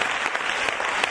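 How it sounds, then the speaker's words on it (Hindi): An audience claps together during a church service, a dense, even burst of applause that fills the space with no voices rising above it. "Let's give the Lord a big clap"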